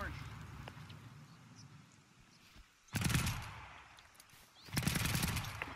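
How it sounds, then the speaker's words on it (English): Gunfire in the tactical shooter Ground Branch during a PvP match, heard as two loud bursts of rapid shots about two seconds apart, standing out over quieter background ambience and a voice speaking. "I'm being shot at."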